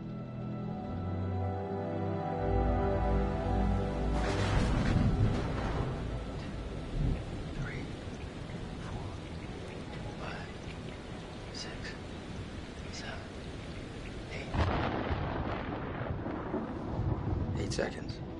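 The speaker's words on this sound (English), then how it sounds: "Storm's 8 miles away." Thunder rumbles through a steady rainstorm, with a heavy roll early on and another loud crack near the end over constant rain hiss; brief faint voices are caught under the storm.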